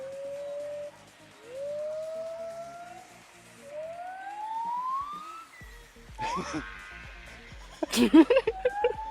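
Rising, whooping calls glide upward one after another from a distance, followed by closer rustling and a few sharp knocks near the end.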